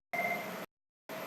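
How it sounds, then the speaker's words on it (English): An IP phone on a branch network rings in two electronic bursts, a half-second tone and then a second one starting after a short silence. The ring is steady and clear, with no talking. "the IP phone connects to the branch. It's ringing."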